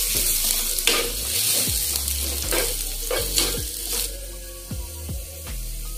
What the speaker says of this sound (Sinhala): සුදු ලුණු ටිකක් සමන් පාට වෙනකම් මෙහෙම බැදගමු.